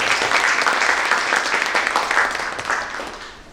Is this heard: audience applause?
yes